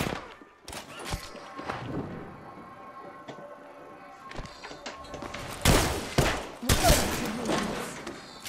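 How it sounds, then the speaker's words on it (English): Gunfire in the video game Apex Legends, scattered shots and thuds through a busy game mix, building to louder, denser bursts toward the end. "Getting shot at."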